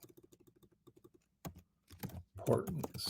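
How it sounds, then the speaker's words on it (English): Rapid clicks of typing on a computer keyboard tap out in a quick, close rhythm, then talking begins and continues over the last half. "It's so much fun to type while you're talking and yes, while you're being recorded."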